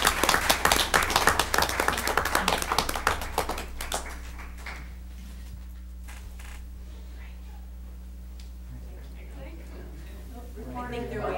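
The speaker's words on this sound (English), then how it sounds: "let's recognize them one more time with a round of applause" Applause at a board meeting, a burst of close, sharp clapping for about four seconds that then fades into quieter room noise with low hum and voices.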